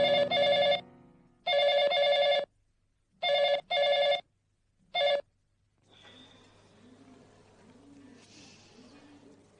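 An electronic telephone bell rings late at night in repeated bursts, two long rings then shorter ones, loud and close, then stops and is followed by quiet background noise.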